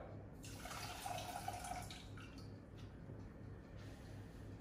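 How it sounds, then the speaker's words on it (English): A cup of water is poured into sugar in a pan to make kunafa syrup; a soft, steady trickle and splash runs for a couple of seconds, faint and close, with no talking. "I'm just going to add 1 cup of water."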